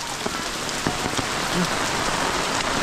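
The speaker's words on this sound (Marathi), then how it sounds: "फुल पाऊस आहे गावी शेतं भरलेत आणि मुसळधार पाऊस लागतोय" Heavy monsoon rain pours steadily over a Konkan village with flooded fields. A dense broadband hiss with scattered drops striking a surface close by, continuous throughout with no voices.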